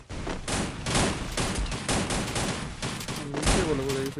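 Rapid bursts of gunfire from the mobile battle game Free Fire during a LAN tournament match, loud and continuous over about four seconds with overlapping shots and game effects.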